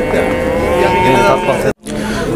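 A loud, close cow moo drones for over a second at a cattle market in Jalal-Abad, followed by a short break and quieter rumbling.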